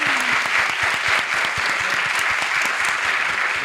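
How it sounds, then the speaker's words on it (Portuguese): Audience applause on a Portuguese-language podcast, a steady dense patter of many hands clapping together at close range, continuous and even throughout with no talk over it. "Pode aplaudir."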